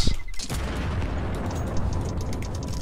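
A grenade going off in Counter-Strike, a sharp, close blast with a booming onset that breaks into a dense, rumbling roar and sustains for a few seconds.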